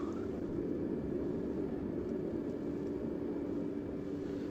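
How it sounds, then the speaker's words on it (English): An aircraft in the game ArmA 3 taxies onto the runway, its engine producing a continuous steady hum that stays level and unbroken. "taxiing onto the runway itself"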